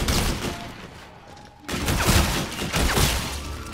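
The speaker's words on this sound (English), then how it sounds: "I'm shooting so fast." Rapid gunfire in the shooter game Call of Duty Infinite Warfare, a dense fusillade of shots that drops to a quieter stretch before firing resumes loud and continuous.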